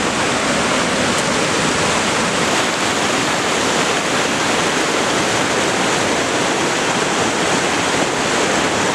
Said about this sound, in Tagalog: We are back again sa Tinago Falls.